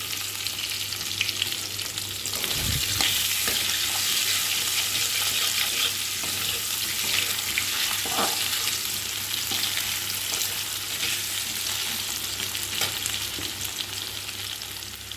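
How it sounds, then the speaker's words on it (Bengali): Potatoes fry in oil left over from frying shrimp, giving a loud, steady, close sizzle that runs the whole time with a few soft stirring knocks and no voices. "চিংড়ি মাছ ভেজেছিলাম এর মধ্যেই আলুটা ভেজে নেবো"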